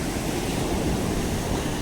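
Sea waves wash onto Devgad beach on the Maharashtra coast in a continuous, even rush of surf noise mixed with some wind, with no distinct breaks and no voices.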